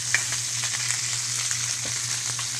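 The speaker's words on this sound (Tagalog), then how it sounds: "nagpiprito po tayo ng galunggong" Galunggong fish frying in hot oil, a steady close sizzle with scattered sharp pops and crackles as the oil spatters, continuous and without talk.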